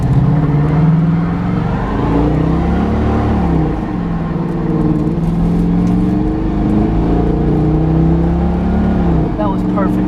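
A 1996 Buick Roadmaster wagon's engine holds a steady, loud revving drone during a brake stand, its pitch wavering up and down, with voices talking over it.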